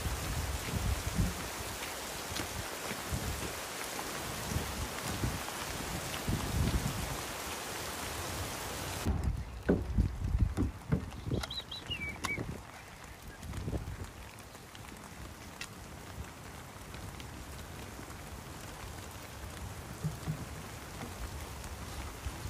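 Steady rain falls outside a stable on a cold day, a dense hiss that is louder for the first half and then thins to a softer patter, with a few sharper drips standing out.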